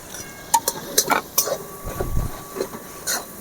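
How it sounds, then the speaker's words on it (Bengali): Chana dal being stirred into spices in a pot for papri nimki filling, with light clinks and scraping of a spoon against metal in a few irregular knocks, close and moderately quiet. "মশলার সাথে ভালো করে আমি মিশিয়ে নেব।"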